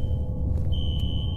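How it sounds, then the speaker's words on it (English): Fire alarm in the video game F.E.A.R., a steady high electronic tone sounding continuously over a low rumbling background, close and fairly loud with a brief break midway. "Alright, so the fire alarm just went off"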